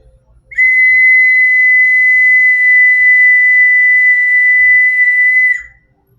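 A single shrill whistle blast held steadily for about five seconds, loud and close, then cut off, with faint low thumps before and after.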